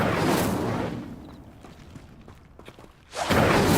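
Incendio fire spell cast in a video game, a loud whooshing burst of flame at the start that fades into a quieter crackling stretch before a second roaring burst of fire flares up at the end.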